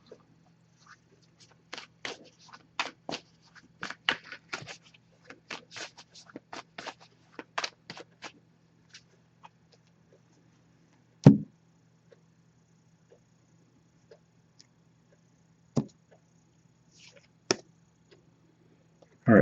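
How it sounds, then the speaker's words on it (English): Soft shuffling of an oracle card deck: a flurry of light flicks and taps, then a few isolated clicks separated by quiet stretches. "So I'm going to give this a few shuffles now."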